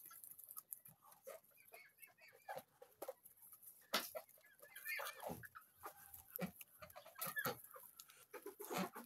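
Crested-head chickens cluck and chatter in a faint, scattered flock, with irregular short calls overlapping from several birds in a quiet farmyard.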